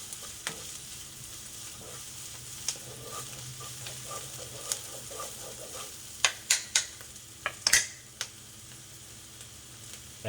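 Ginger and onion stir-frying in a pan, a soft steady sizzle broken by sharp scrapes and clicks of the utensil against the pan, which grow busier toward the end.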